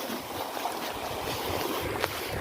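Water running along a narrow open irrigation channel, a steady broadband rushing and gurgling that holds evenly throughout, with no voices.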